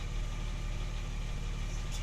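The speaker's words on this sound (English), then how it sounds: "now that it's warmed up, there seems to be no rough idle" A warmed-up Porsche 996 Turbo, diagnosed with misfires on cylinders 3 and 6, idles smoothly and steadily at close range with an even, unbroken hum.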